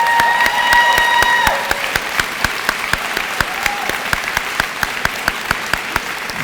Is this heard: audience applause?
yes